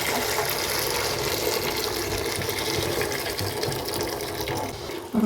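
Water pours into a pot of jaggery on the stove as a steady, continuous rushing splash that runs for several seconds, with no speech.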